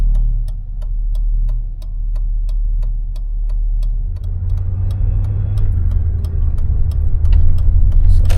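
A 1996 Chevy StarCraft V8 van engine hums steadily while driving, a low continuous drone with a faint regular ticking over it, growing louder and rougher partway through as the load increases.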